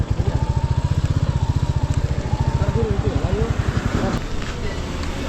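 A motorcycle engine runs with a fast, steady putter of regular pulses close up, rising slightly and then settling, while a person speaks over it partway through.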